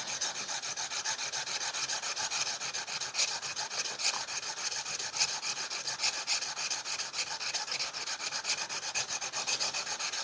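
Dull woodworking chisel rubbed back and forth on a sharpening surface, a steady rhythmic scraping rasp with regular strokes, close and continuous, no talking.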